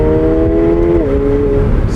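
A 2024 McLaren 750S convertible engine in Sport mode drones loudly and steadily from the cockpit, its pitch dropping once in a smooth gear change midway, with no talk.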